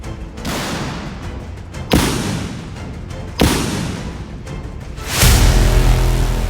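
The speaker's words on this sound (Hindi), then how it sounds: "टैंकों से अंधाधुंध बारूदी गोले की बौछार हो रही है।" Tank shells fired in a heavy barrage, several loud booming impacts at intervals over a continuous battle rumble, ending in a deeper sustained blast.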